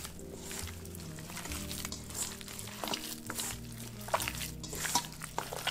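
Wet squishing and mixing of albondigas meatball mixture with rice, black pepper and salt, soft irregular squelches and drips close up, steady throughout with a low hum beneath.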